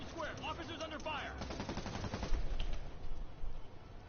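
Rapid bursts of machine-gun gunfire crackle in a Spider-Man game street shootout in Times Square, with heavier shots near the middle and a voice talking over the opening.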